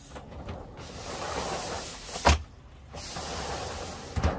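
A sliding shower door in a Mercedes Sprinter van rolls along its track twice, each glide ending in a sharp thump as it stops, with a quiet pause between.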